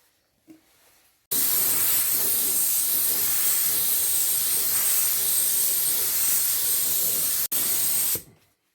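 Spray gun laying the final coat of paint on a Ford F-150 fender: a loud, steady close-up hiss that starts abruptly, holds for about seven seconds with one split-second break, then cuts off.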